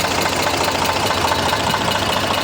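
An Eicher 485 tractor diesel engine idles close and loud in a smooth, steady, rhythmic chug with no break and no voices.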